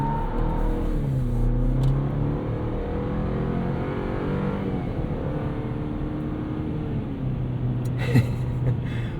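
A 2023 Chevrolet Colorado Trail Boss with a turbocharged 4-cylinder pulls hard, its engine note a steady, loud cabin drone that rises and dips in pitch as it accelerates.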